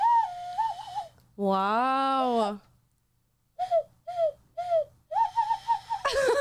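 A person whistles a rising, warbling imitation of a bird call in one sustained burst of about a second, then gives a run of short chirping whistles. A brief spoken exclamation breaks in near the end.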